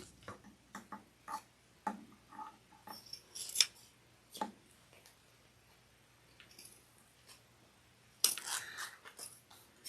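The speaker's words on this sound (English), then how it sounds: "I'm just going to trim the seam" Scissors snip through the fabric seam of a sling, a run of short crisp cuts scattered unevenly across the stretch, close by and fairly quiet, with a couple of louder rustling handling noises in between and no talking.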